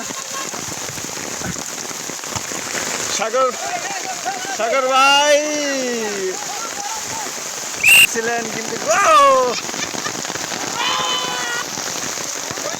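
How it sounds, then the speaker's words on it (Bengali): Steady heavy rain pours down on an umbrella during a football match, with someone commentating over it and brief tonal whoops or whistles in the background. "মুষলধারে বৃষ্টি হচ্ছে।"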